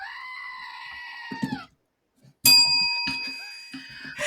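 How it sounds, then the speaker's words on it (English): A screaming goat sound effect: a long, loud, shrill bleat-like scream, a brief silence, then a second harsh, piercing scream with choppy breaks, heard alone and up close. "That's a screaming goat for those who don't know."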